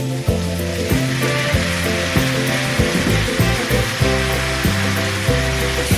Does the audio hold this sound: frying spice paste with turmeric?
yes